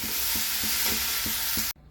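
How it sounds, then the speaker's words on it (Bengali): Vegetables frying on very low heat in a wok-style pan, a steady close hiss with soft regular stirring strokes, ending abruptly after a couple of seconds. "একদম কম আঁচে ভাজছি এটা।"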